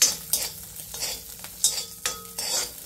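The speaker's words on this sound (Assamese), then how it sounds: "কাজু খিচমিচটো অলপ ভাজি লৈ" Cashews and raisins frying in a small amount of oil in a pan, with a soft steady sizzle broken by repeated scraping, stirring strokes of a utensil against the pan, close up and with no talk.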